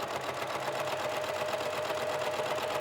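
A serger sewing machine stitching a pin tuck in fabric, running steadily with a fast, even mechanical whir and rhythmic needle chatter, fairly quiet and close, with no talking.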